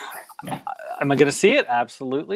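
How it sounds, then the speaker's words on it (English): A pet dog barks and whimpers indoors in short bursts, up close, overlapping a person's steady speech. "Sorry for my dog."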